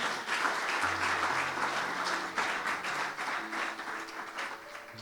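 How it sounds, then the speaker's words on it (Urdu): A church congregation bursts into loud, sustained applause, a dense wash of many hands clapping together, steady over the whole stretch with a faint murmur of voices beneath. "زوردار تالیاں خدا کے لیے"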